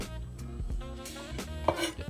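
A kitchen knife slices green onion on a cutting board for a noodle garnish, giving a few soft quick cuts and light board taps close by.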